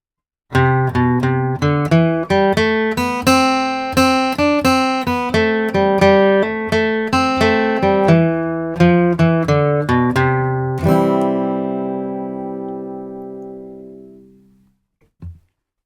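Brisk bluegrass melody, Billy in the Lowground, flatpicked on acoustic guitar, crisp notes in an even run, closing with a strummed chord that rings out and decays.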